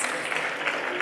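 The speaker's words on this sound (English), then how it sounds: "So the good mathematicians are already cheering" A graduation day audience cheers and applauds at the announcement of house results, a dense, fairly distant wash of clapping sustained throughout.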